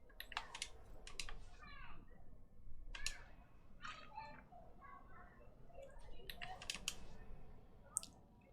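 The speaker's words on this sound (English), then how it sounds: "He's just he's got a mechanical keyboard, which is super loud." Typing on a very loud mechanical keyboard during a Dungeon Defenders gaming session: quick bursts of sharp clacking keystrokes, faint in the mix, with people talking in the background.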